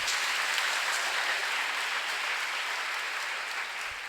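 Applause for contestants at a Ghanaian national science and maths quiz, a dense, steady hiss of many hands clapping from a seated audience that goes on throughout at moderate loudness, with no voices over it.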